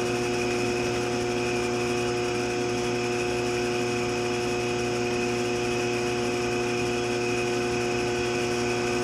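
A ShopSmith 10ER motor runs steadily with a constant hum and whine, loud and close throughout, with no voices as its speed is being brought down.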